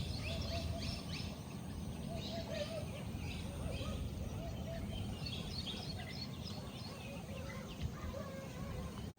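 A parrot calls from a window sill in the morning, with repeated short chirpy calls scattered over a steady background hum, moderately distant.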